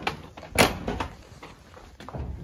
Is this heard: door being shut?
yes